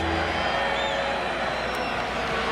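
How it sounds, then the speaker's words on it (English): A college football stadium crowd roaring steadily on a third down, a dense, continuous wash of cheering that never lets up. "Crowd trying to get into it."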